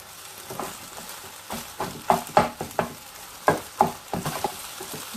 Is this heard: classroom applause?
no